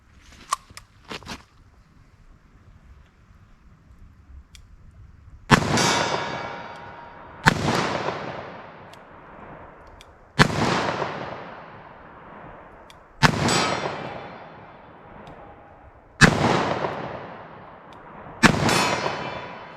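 Six sharp .38 Special +P+ gunshots firing Speer lead semi-wadcutter hollow point loads at an outdoor range, spaced about two to three seconds apart, each loud crack trailing off in a long echo.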